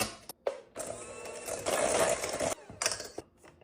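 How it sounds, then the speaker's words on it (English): An electric hand mixer creams butter, cane sugar and pumpkin in a bowl for cookie dough, giving a whirring, rattling churn with short bursts and brief stops, close and moderately loud. "Using my hand mixer, I'm just gonna beat all this up together."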